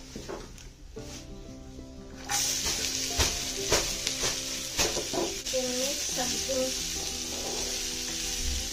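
Onions dropped into hot oil seasoned with asafoetida in a pan, a sudden loud sizzle that stays steady while a utensil stirs and knocks, with a voice talking over it.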